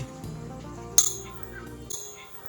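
A heated glass bottle, cooled by dipping in water to cut it, gives a sharp crack followed by a smaller clink a second later, faint and close in a quiet room.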